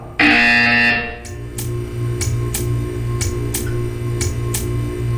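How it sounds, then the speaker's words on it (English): A harsh electronic buzzer in the video game Portal 2 blares for about a second, followed by a steady series of sharp ticking clicks over a low electrical hum. "You will hear a buzzer."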